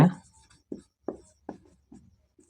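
Chalk writing an equation on a board during a maths lesson, five or six short separate tapping strokes spaced about every half second, close and distinct, with a spoken word at the start.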